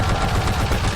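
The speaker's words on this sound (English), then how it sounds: "Infinity Ward painstakingly recreated the sound of each weapon at different distances" Weapon fire from the Call of Duty video game crackles in a dense, loud burst of rapid shots lasting about a second, with no voices.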